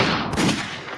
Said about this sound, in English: Shoot the gunshots, Mason.